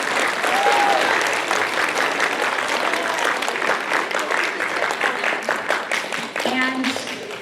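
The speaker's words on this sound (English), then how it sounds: "So let's give a big round of applause for our coaches." An audience at a speech and debate tournament gives the coaches a long, steady round of applause, continuous clapping with a few faint voices underneath.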